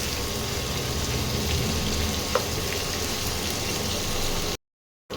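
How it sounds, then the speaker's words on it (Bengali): Onions frying in oil in a home kitchen while mutton is cooked, a steady close sizzle and bubbling that runs continuously with one small click partway through, then breaks off briefly near the end. "একটু পেঁয়াজটা ভেজে নিই"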